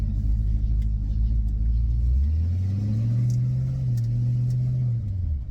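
A car with a freshly welded, homemade exhaust system drives through a parking lot, giving a steady low drone that swells into a deeper rising hum as the engine pulls, close and continuous with no talking.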